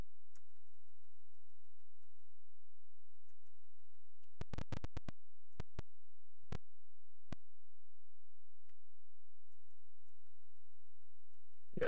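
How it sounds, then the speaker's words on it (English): Keyboard of an Apple II computer tapped in a short burst of quick clicks, then a few scattered single presses, close and crisp against near silence. "I think I'll stick with the keyboard controls"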